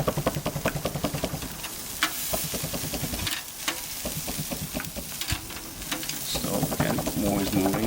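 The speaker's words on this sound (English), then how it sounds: "Different sizzle. Flavor and sizzle." Meat sizzling and crackling on a hot charcoal grill, a steady hiss with scraping and tapping of utensils, fairly quiet and close.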